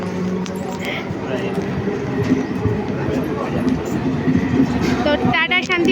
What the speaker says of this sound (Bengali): এই যে আমাদের শান্তিপুর লোকাল চলে যাচ্ছে